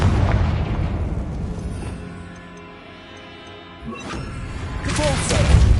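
A Confringo blast spell bursts in Hogwarts Legacy, giving loud booming, crashing explosions at the start and again near the end, with a quieter lull in between.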